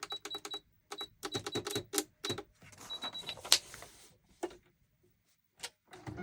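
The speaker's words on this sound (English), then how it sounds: "I've got my sewing machine out, so I'm going to do a little bit of stitching." Bursts of rapid mechanical zigzag stitching from a sewing machine, starting and stopping several times with short pauses between runs, close by.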